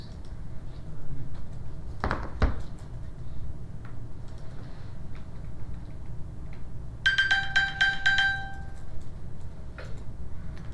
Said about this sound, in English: Meant to silence my watch, but pinged my phone instead.